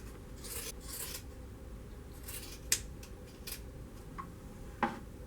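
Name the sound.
trimming padding with scissors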